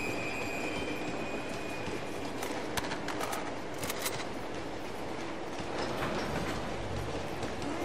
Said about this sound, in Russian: Бесконечный поезд.